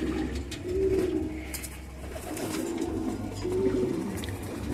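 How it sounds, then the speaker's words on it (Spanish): Racing pigeons coo in low, throaty rolling calls while being given a bath, two clear coos about three seconds apart over steady splashing and a background hum. "Están echando un bañito a las palomas"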